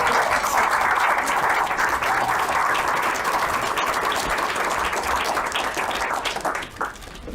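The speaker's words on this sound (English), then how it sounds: "One more applause." Steady, dense applause from a crowd, sustained clapping at an even level throughout before tapering slightly at the very end.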